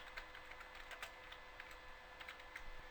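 Steady run of light, close keystrokes on a computer keyboard, entering a label into a spreadsheet cell, with a faint constant hum underneath and no talk.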